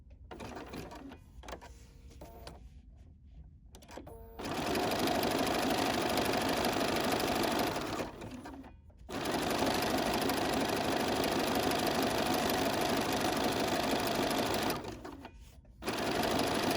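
Sewing machine stitching a close decorative zigzag on fabric, running in steady rapid bursts of mechanical whirring with brief pauses between, close and fairly loud.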